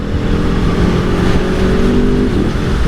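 A 2023 Aprilia Tuono 1100 V4 Factory motorcycle pulls hard under acceleration on an open road, its V4 engine a loud, close, steady roar with rising harmonic drone and no voices.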